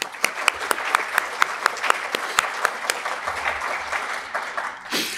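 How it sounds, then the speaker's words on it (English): An audience applauds at a Ron Paul Institute event, with sharp individual claps standing out over a steady wash of crowd clapping that fades slightly toward the end. "So give yourselves a round of applause."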